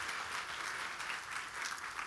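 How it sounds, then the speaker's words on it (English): Delegates at a summit give a round of applause, an even, sustained patter of many hands heard from a moderate distance, fairly soft and without voices. "Give yourselves another round of applause."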